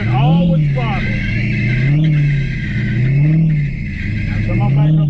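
A vehicle engine revs under throttle control in several rising and falling swells, loud and close, with people talking over it.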